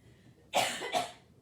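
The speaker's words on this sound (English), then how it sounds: "I'm going to cough." Two quick, close coughs in a row, loud and breathy, against a quiet background.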